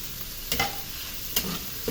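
Mushrooms fry in a breakfast pan with a steady close sizzle, broken by two sharp stirring scrapes of a utensil against the pan. No one speaks.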